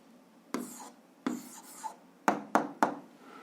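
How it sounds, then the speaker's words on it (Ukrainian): A pen writes an answer by hand on paper while a physics homework problem is worked out: five short, scratchy strokes, close and quiet, separated by brief pauses, with no talking. "записуємо відповідь, пишемо відповідь"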